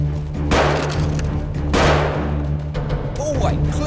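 Two sharp, booming blasts from a frag grenade in a tactical shooter game land about a second apart, each followed by a short rumbling tail, with faint game sounds in between.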